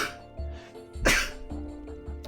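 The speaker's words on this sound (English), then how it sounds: "Double sneeze." A person's double sneeze, two sharp bursts close together, near and fairly loud.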